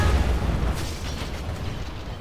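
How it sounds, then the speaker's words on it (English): A missile explodes in Command & Conquer Generals with the Pro:Gen mod, a heavy boom with a deep rumbling tail that fades into noisy crackle over about two seconds, with no talk. "Sending the missile."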